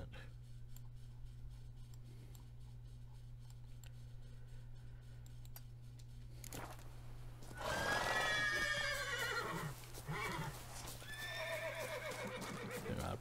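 In The Witcher 3: Blood and Wine, a horse lets out a loud, close neigh and whinny after a quiet stretch, followed by snorting and a second shorter whinny.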